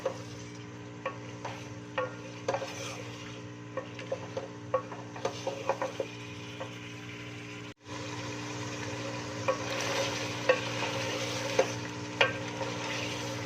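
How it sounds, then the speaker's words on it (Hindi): Potatoes and chicken stir-frying with masala in a pan, a soft steady sizzle under a low hum, punctuated by regular sharp spatula scrapes and knocks, with a brief break midway and no talk. "आलू और चिकन को हम इकट्ठा ही इस तरीके से हम भूनेंगे, मसाला सारा गल जाएगा।"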